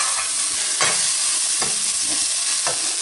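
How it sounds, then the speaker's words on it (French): Onion fries in a pan with a constant sizzle while a utensil stirs it, giving a few distinct scraping strokes at regular intervals, close up. "Remuer pour faire confire plus rapidement l'oignon."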